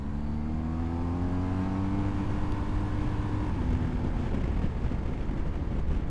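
BMW R1250GS Adventure motorcycle with a 1250 engine pulls hard to overtake, its loud, close engine note climbing steadily in pitch before blending into wind roar.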